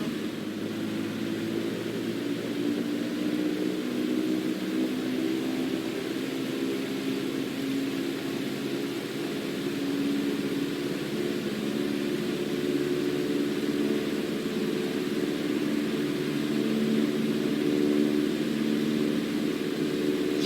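A small single-engine airplane's propeller engine drones steadily while taxiing on a runway in a flight simulator, a constant loud low hum with a slight rise in power, no talking.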